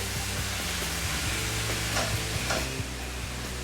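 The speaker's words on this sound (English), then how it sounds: "And we're going to chuck in our mushrooms. Just keep stirring that in." Mushrooms fry in a hot pan for beef ragout, a soft steady sizzle with scraping stirs and light clinks from the utensil, close and without talk.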